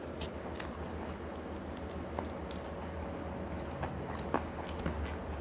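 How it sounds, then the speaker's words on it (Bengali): Rice mixed with ghee or butter and green chilli being chewed up close, with soft wet mouth sounds and occasional small crunches in a steady rhythm, no talking. "একটু কাঁচা লঙ্কা দিয়ে চাট করে খাই।"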